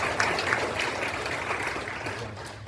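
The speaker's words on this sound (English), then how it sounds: "Give him a round of applause" Applause from a symposium audience as a session moderator is introduced: a fairly distant, steady patter of many hands clapping for nearly three seconds, fading slightly toward the end.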